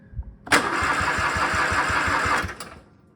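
A Craftsman riding lawn mower engine with an electrical fault cranks over on the starter without firing. It gives a close, rapid, rhythmic chugging for about two seconds, then stops.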